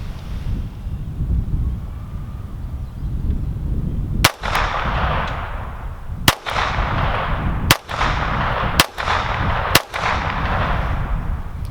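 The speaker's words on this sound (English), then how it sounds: "we're going to go ahead and fire the first round in double action, and then the other 5 shots we're going to go ahead and do a single action" Shots from a GSG Firefly .22 semi-auto pistol at an outdoor range: five sharp, loud cracks at uneven intervals of one to two seconds, each with a brief tail, over steady wind noise and no talk.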